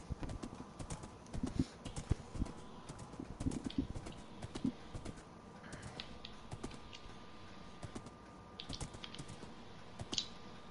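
Horse hooves clop in Minecraft, a quiet run of irregular hollow clip-clop steps with some clicky keyboard-like taps mixed in, faint and close, without speech.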